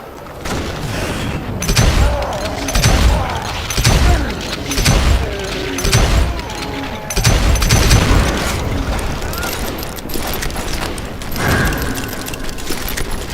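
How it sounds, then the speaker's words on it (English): A Gatling gun fires in the Western shooter game Call of Juarez: Gunslinger, loud booming bursts pounding in a steady rhythm, with heavy blasts and clatter filling the scene. "Kid Curry opened up on me with a goddamn Gatling gun."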